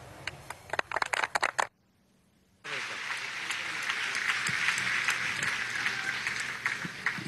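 A crowd applauds at a student day ceremony at the Miraflores presidential palace. Dense, steady clapping fills the room after a short silent gap and carries on without a break.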